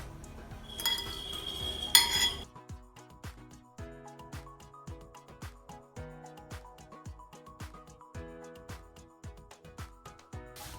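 Eggs with seasoning cubes being mixed in a bowl with a utensil: a short burst of clatter, then steady rhythmic clinks and taps of whisking against the bowl, fairly quiet and close, with no talking.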